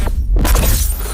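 Mirror glass shatters loudly and close, a sharp crash breaking into a spray of tinkling shards that carries through the short moment with no voices.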